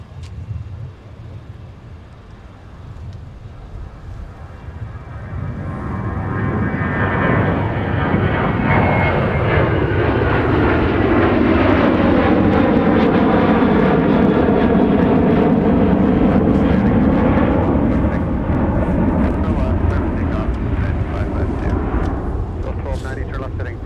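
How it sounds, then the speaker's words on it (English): A Southwest jet airliner makes a quick takeoff roll at Minneapolis–St. Paul airport, its engine roar swelling after a few seconds into a loud, sustained rumble with sweeping, shifting tones that hold to the end. "there goes Southwest with a really, really quick takeoff roll"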